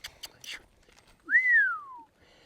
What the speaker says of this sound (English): And I'll always give a little cue like that whistle.